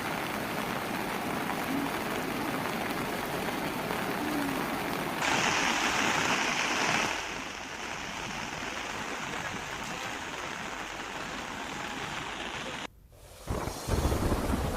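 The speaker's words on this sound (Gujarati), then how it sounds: "નદી બંને કાંઠે વહી રહી છે." A monsoon-swollen river, raging and flowing over both its banks amid heavy rain around Netrang in Bharuch, roars as a steady, dense wash of water. The din briefly drops out near the end, and no one speaks.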